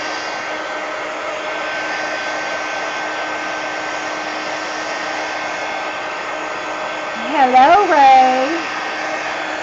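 A hair dryer blowing hot air to dry paint on the pages of a mixed-media book, a continuous loud whine with a steady motor tone, while a voice briefly speaks over it near the end.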